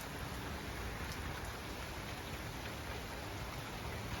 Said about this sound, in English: Just started raining a little bit harder now.